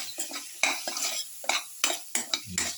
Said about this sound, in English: half a spoon of mixture spices, mix,